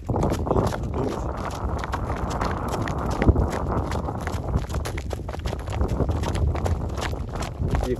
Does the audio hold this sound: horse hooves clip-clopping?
yes